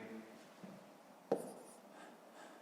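A pen writes in a maths exercise book, faint close scratching strokes with one sharp tap in the middle, quiet overall.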